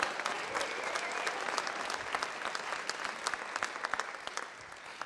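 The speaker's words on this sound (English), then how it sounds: "So everybody cheer." An audience at a leadership team gathering breaks into sustained applause, a dense patter of many hands clapping at moderate distance, with a few sharper claps standing out.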